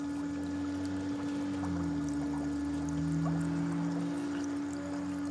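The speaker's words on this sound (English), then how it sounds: "I'm soaking my feet in some peroxide hot water." Hot water with peroxide in a foot soak, a steady low bubbling and trickling hum, quiet and continuous, with no one speaking.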